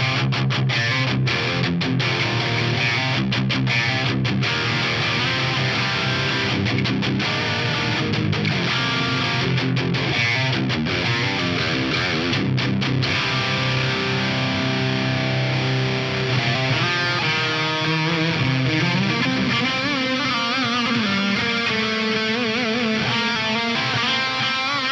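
Distorted electric guitar through an amp modeler using a Crowther Audio Hot Cake–style drive plays a driven lead line with sustained notes and choppy bursts, loud and close, with no voices.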